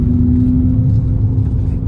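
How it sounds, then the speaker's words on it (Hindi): A car's exhaust note, a steady, loud, low rumble with an even drone at idle or a constant cruise that holds without a break and has no talk over it. "बाकी एग्जॉस्ट नोट तो आपको पता ही है अपनी गाड़ी का कैसा है"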